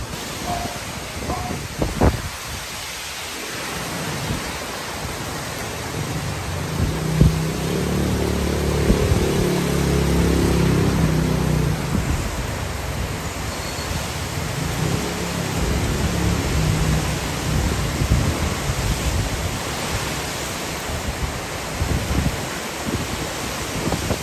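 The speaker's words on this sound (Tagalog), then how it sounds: "Grabe lakas ng ulan." Heavy rain pouring down around a condo building during flooding, a dense, unbroken hiss lasting the whole stretch, with a low rumble swelling briefly in the middle.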